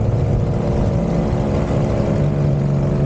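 A boat's outboard motor drones steadily at close range in a lagoon, a continuous low engine hum with no pauses.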